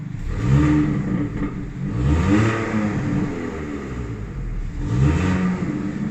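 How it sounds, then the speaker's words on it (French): A 2018 Hyundai i30 N, already warm, revs in neutral to about 3000 rpm, its mid-pitched engine note climbing and falling in several repeated swells, close and steady with no talking. "Là je monte à 3000 tours"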